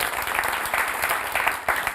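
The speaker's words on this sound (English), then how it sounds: "I mean, clap for yourselves, guys." Live studio audience at a talk show clapping for themselves, a lively, close burst of many hands with uneven peaks, lasting about two seconds.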